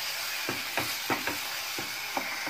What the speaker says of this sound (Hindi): मैंने तेज आंच पर इसे भूना है